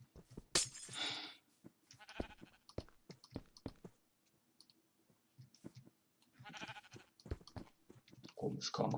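Sheep bleat in the Minecraft video game, with several short bleats spread across the stretch alongside clicks and other game sounds, loud and close.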